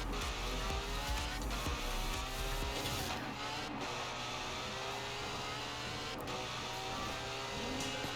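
A McLaren 600LT Coupe in Forza Horizon 4 roars steadily at very high speed, its engine note droning loud and close with wind and road noise and no talk.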